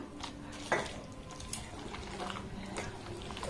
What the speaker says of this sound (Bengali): আবারও দেখুন এক বাটি আমি গরম জল নিয়ে নিয়েছি মোট দেড় বাটি জল এখানে অ্যাড করলাম